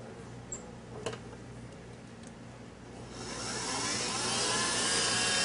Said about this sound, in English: we will begin the process of whipping the egg yolks into sugar